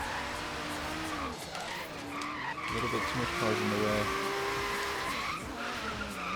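A Datsun 240z drifts with long, wavering tire squeals and engine noise in the Forza Horizon 3 video game, while someone talks over the sliding.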